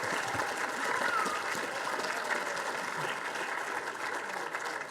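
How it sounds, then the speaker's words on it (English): Sustained audience applause for presenters at a university Three Minute Thesis final competition, a steady wash of many hands clapping heard from a distance at moderate level, with faint voices mixed in. "Let's give another huge round of applause to our 10 amazing presenters."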